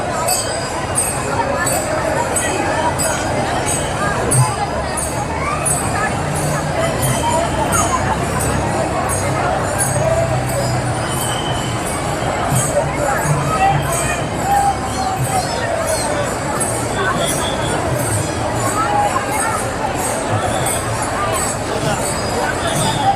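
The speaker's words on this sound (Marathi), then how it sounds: "गर्दी खूप" Dense crowd noise at a palkhi procession for Tukaram in Pune, a steady roar of many voices and babble with faint clinks, continuous and loud throughout.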